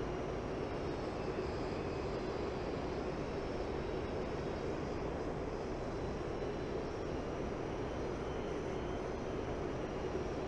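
A Mirage F1EE jet in the DCS flight simulator holds a steady, dense engine roar, unbroken and even in loudness throughout, with no voices.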